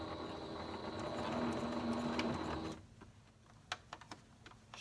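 A sewing machine back stitches denim while turning jeans into shorts, giving a steady close whirring run that stops after nearly three seconds and leaves a few scattered clicks and taps.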